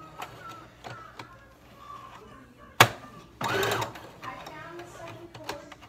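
A sewing machine stitches a box-and-X reinforcement on a homemade dog harness. A sharp click comes first, then a short, close, buzzing burst of stitching in an otherwise quiet room.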